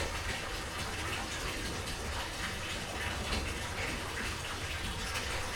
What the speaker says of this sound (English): You can see the tank filling up.